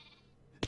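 A sheep bleats once in Minecraft, a short, fairly loud burst near the end after a stretch of quiet background from a sheep fountain spawning a huge flock.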